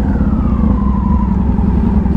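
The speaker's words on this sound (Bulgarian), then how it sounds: "Това си е мотор." A large motorcycle engine runs steadily and close by, a loud continuous rumble with a slowly falling whine over about two seconds, with no talk.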